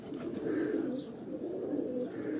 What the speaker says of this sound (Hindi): और ये वो कबूतर हैं जिनके बच्चे शाम तक उड़ते हैं